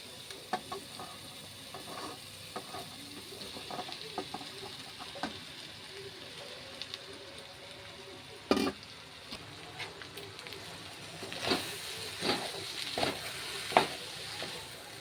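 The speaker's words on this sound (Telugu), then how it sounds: "ఆ పొడి పొడిగా విప్పిన అన్నాన్ని ఇందులో వేసి కలుపుకుందాం." Loosened cooked rice is stirred into hot oil in a pan for tomato rice, giving a soft, steady sizzle broken by intermittent scraping stirs of a spoon against the pan.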